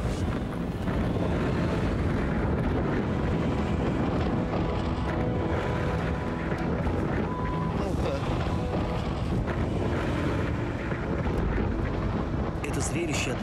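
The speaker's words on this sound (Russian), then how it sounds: "В Сахаре дует ураганный ветер, который поднимает тучи песка." Hurricane-force wind roars across the Sahara desert, whipping up clouds of sand into a storm; a loud, continuous broadband rush with gusting buffeting on the microphone lasting the whole stretch.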